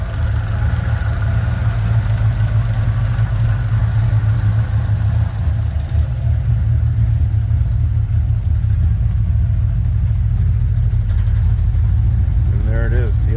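An RV engine runs steadily with a wheel spinning after its seized brakes were freed, a loud, continuous low rumble throughout the clip with a voice talking over it.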